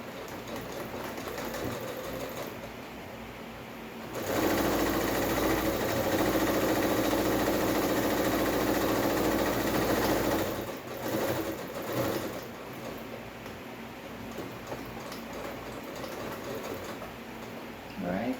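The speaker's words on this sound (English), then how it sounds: "I'm going to do the second one. the other shoulder seam." A sewing machine runs in a steady, loud whirring burst as it stitches the second shoulder seam of a blouse, then slows to quieter intermittent running, with a voice heard at times.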